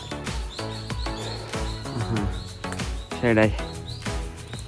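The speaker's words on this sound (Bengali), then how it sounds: "পাখির ডাক কিচিরমিচির কতদিন যে শুনি নাই" Small birds chirp and tweet in short bursts on a mountaintop in Japan, close and clear beneath steady talk, with brief speech in the clip.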